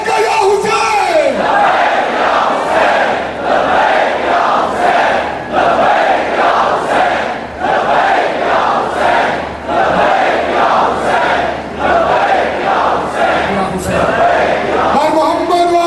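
A large crowd at a Shia majlis on the 4th of Muharram in Iqbal Town chants Labbaik ya Hussain in loud, rhythmic, repeated waves that fill the whole stretch.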